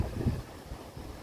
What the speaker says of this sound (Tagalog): Ayan siya mahangin. Ayan ang hangin.